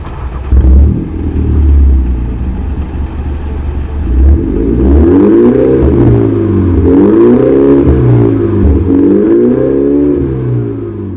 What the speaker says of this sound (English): the owner put Borla exhaust, which sound really nice. I'm gonna play a clip of it now.